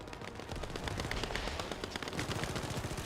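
Rapid machine-gun fire rattles nonstop in The First Descendant, a dense, steady burst of shots with no pauses and no talking.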